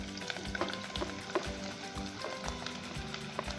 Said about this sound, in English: Now I'm adding my mussels.